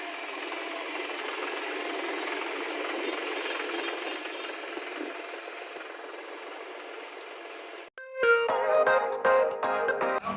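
A John Deere 5405 tractor engine runs nearby for about eight seconds with a steady, fast mechanical clatter. It then cuts abruptly to a different, louder sound with ringing tones.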